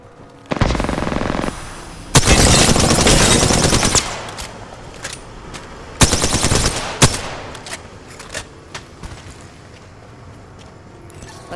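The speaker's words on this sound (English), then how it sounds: "I'm getting shot at." Automatic gunfire in the battle royale game Apex Legends, long loud rapid bursts at close range broken by pauses and then scattered single shots that grow sparser and fainter.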